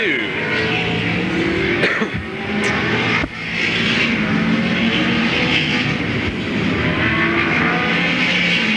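Late model stock cars roar down the front straightaway at Louisville Motor Speedway, a continuous loud engine drone with passing surges, heard alongside a race commentator's voice.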